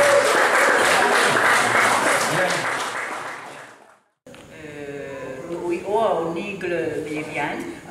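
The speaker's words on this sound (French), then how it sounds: "Allez, on l'applaudit." Loud audience applause at a French-language church gathering for about four seconds, fading out, followed by a voice speaking after a short pause.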